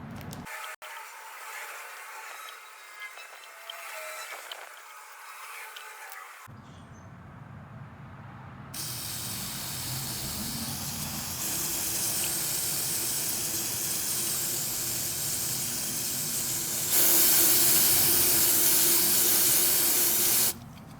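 A spray can blasts degreaser through grease-packed RC car bearings in long, loud hissing bursts, the jet steady and harsh, pausing briefly before resuming louder and brighter toward the end.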